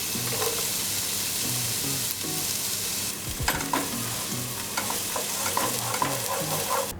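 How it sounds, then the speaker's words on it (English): Chopped onion sweats in olive oil in a pan with a constant crackling sizzle, while a utensil scrapes and taps through the middle and final seconds; nobody speaks. "Chop the onion and start to sweat in a pan with olive oil"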